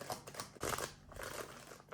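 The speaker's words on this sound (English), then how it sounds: "One more shuffle." Tarot cards being shuffled by hand, a few quick papery riffles and slaps close up, fairly quiet, with a short pause between bursts and no voices.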